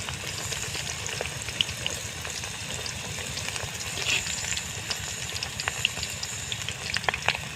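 Chicken pakora pieces fry in hot ghee over a low flame, a steady dense bubbling sizzle with small pops, close and continuous with no talk.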